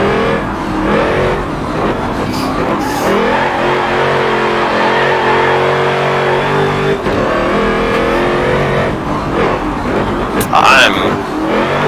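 A race car engine revs hard and shifts through gears in a racing video game at Le Mans, the loud, continuous whine rising and falling near the track's Porsche curves, with someone talking over it.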